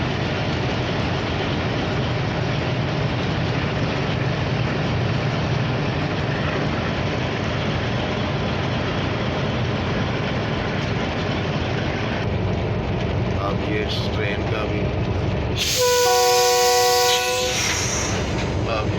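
A Karachi-to-Lahore passenger train rumbles past close by with a long, loud continuous roar of wheels and cars, then a sharp blast of its horn near the end as the rumble fades.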